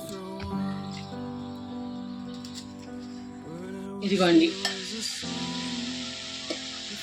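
Chicken frying in a pan with turmeric and salt is stirred, a steady sizzle with a louder burst of scraping and stirring midway. Background kitchen tones continue throughout.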